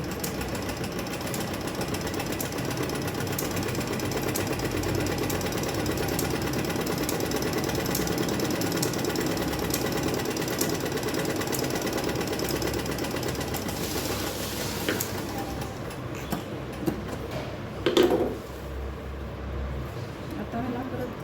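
A sewing machine stitches a zipper chain onto the main fabric of a bag, a fast steady mechanical chatter running close for most of the clip, easing off near the end with a brief knock.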